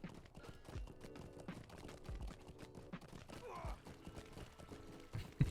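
A horse's hooves clip-clop at a steady trot in the video game Lord of the Rings Online, faint and rhythmic beneath quiet background music.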